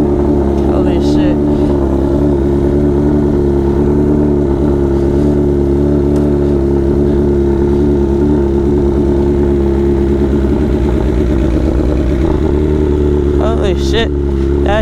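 BMW S1000RR sportbike fitted with an SC Project slip-on exhaust, loud and close, idling with a deep steady rumble and blipped revs near the end.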